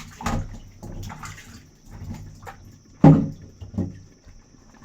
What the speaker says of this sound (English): Now I continue washing my potatoes.